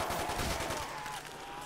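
An MP5 submachine gun fires a rapid burst in a zombie video game, its dense, close shots leading off and then easing into a steadier, quieter tail of fire.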